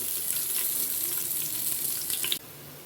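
Bay leaves, cashews and garlic fry in hot oil in a pan, giving a steady close hiss and crackle that runs without a break and then cuts off abruptly near the end.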